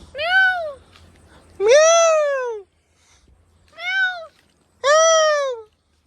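A person imitates a cat, giving four drawn-out, whiny meows in uneven rhythm, close and clear, with short silent gaps between them.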